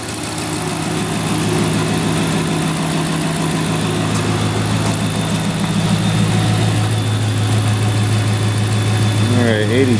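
A 2010-2019 Dodge Ram 5.7L V8 idles close by on its first start after a water pump replacement and vacuum coolant bleed, giving a steady, even rumble that holds for the whole stretch.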